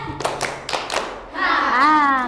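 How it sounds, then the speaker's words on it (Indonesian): A group of children clap hands three times, sharp claps ringing out in quick succession, followed by their voices calling out together. "Oke, tepuk tiga."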